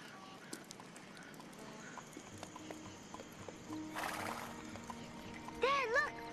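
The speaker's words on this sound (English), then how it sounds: "There, look! Horsey!" Horse hooves clip-clop at a steady pace on a rural road, quite faint and in the background. A rising whinny or neigh comes near the end, and a voice speaks over part of it.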